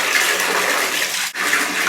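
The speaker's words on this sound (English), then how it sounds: "when you start filling up the water" Warm water gushes steadily from a tap into a bathtub being filled to wash a ferret, a loud continuous splashing flow with a brief dip near the end, no voices.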